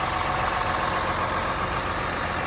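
A 2007 Dodge Ram 2500 pickup idles steadily up close, its engine giving a constant, even rumble with no talking over it.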